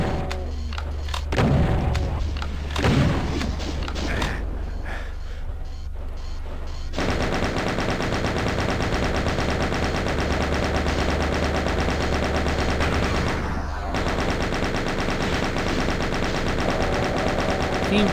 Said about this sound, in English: Seems all my shots are hitting my targets as long as I have a good aim on them